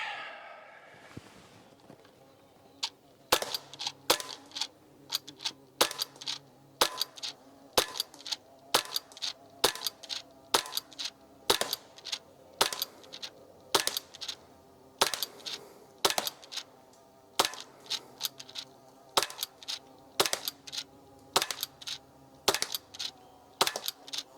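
A Sig P320 pellet pistol firing repeatedly, sharp snapping shots spaced irregularly about a second apart, crisp and close, with quiet pauses between them.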